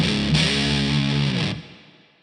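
An electric guitar played through a Way Huge Russian Pickle fuzz pedal rings out as one thick, distorted sustained chord, loud and close, then cuts off and fades.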